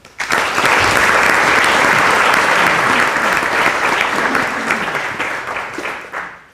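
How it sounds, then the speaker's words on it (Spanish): A conference audience welcomes the panelists of a computing round-table with loud, sustained applause that starts abruptly, holds steady, then gradually fades out near the end. "Recibámoslos también con un aplauso."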